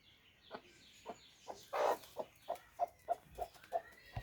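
A lively free-range country hen clucks in a series of about ten short, evenly spaced calls with one louder squawk early on, close by and otherwise quiet.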